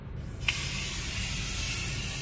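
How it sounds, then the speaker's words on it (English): A steady aerosol sanitizer spray hisses continuously inside a car after a brief click, even and unbroken to the end. "the spray will fill the car into the aircon"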